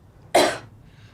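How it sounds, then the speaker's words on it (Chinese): A single short, sharp cough from a nearby person, loud and breathy with a quick fade, followed by near silence. "怎么咳嗽了呀？"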